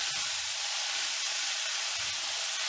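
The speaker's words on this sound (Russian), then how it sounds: "Вы, наверное, слышите, как здесь шипит, да? Это обжариваются овощи." Mixed vegetables sizzle while frying in a hot pan for an Asian-style chicken dish, a loud, steady, close hiss that continues unbroken with no talking.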